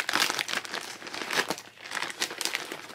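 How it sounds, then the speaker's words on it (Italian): A delivered package from PandaHall is unwrapped up close, with bursts of crinkling and crumpling plastic or paper packaging coming in uneven handling rhythms and no speech. "Facciamo lo spacchettamento."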